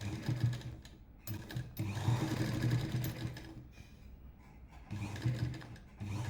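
Sewing machine running in bursts while stitching a chudidar neckline backed with canvas, a close mechanical whirring hum that starts and stops with short pauses between runs.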